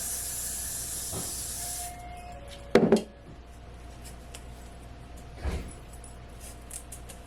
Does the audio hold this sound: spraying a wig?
yes